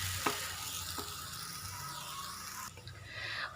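Rice is stirred through a hot pan with a soft, steady sizzle and a few scraping knocks of the spoon, fairly quiet and without voices.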